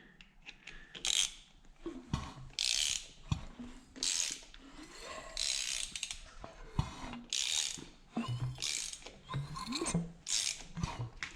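A freshly rebuilt, fully assembled Honda TRX 450ER engine is turned over by hand, making repeated close mechanical clicks and ratcheting whirs in uneven bursts of about a second each.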